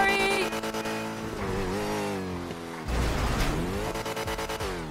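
A car engine revs and whines with shifting pitch, tires squealing as it slides through turns; synthetic and steady like a racing game, no talking.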